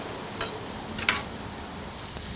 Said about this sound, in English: Now these onions are gonna start cooking away.